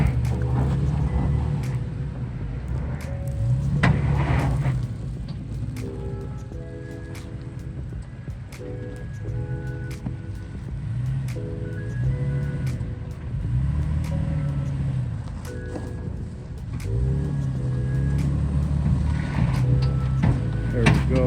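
A four-wheel-drive third-generation Toyota Tacoma crawls off-road on a mountain trail, its engine a steady low rumble with surges of revving and bumps, with voices talking over it throughout.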